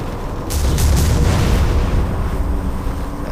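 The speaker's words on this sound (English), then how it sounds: "It's gotta be like the fucking lightest bombardment I've ever seen" Bombardment explosions in the video game Quake IV, a few deep booming blasts rumbling in quick succession with low, rolling aftershocks that slowly die away, no voices over them.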